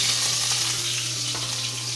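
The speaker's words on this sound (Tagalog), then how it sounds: "Gigisa lang muna natin yung ating mga gulay." Vegetables being sautéed in pork oil for a carabao skin coconut milk dish give a steady, close sizzle and crackle of frying, continuous and moderately loud, with no speech.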